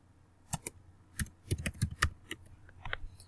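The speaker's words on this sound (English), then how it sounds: "You're going to type in your keyword." Keys on a computer keyboard are typed to enter a search word, giving a short, irregular burst of crisp, close clicks that bunch together in the middle and trail off.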